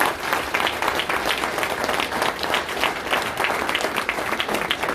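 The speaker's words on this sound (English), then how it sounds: "I want to give them a round of applause for helping me" Steady crowd applause at a campaign kickoff event, a dense wash of many hands clapping at moderate loudness for the whole span.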